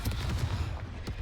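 A Confringo blasting spell exploding in a Harry Potter video game, a short, loud, booming burst with rumbling low end and crackling impacts that fades slightly within about a second.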